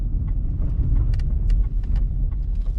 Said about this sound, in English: we've got a car coming